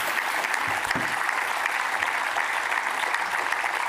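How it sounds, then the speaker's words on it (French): Audience applause fills the room after a panel discussion at a youth-focused civic event, a dense, even, unbroken wash of clapping at moderate volume. "Je pense qu'on peut les applaudir."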